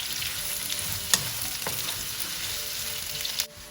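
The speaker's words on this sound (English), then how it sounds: "I'm going to now cook this for 15 minutes, 10-15 minutes until they are really nice and golden." Onions frying in a pan for a tandoori chicken curry, a steady close sizzle with a couple of sharp utensil clicks, heard alone with no talking.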